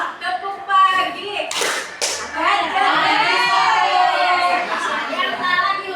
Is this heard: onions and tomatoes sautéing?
no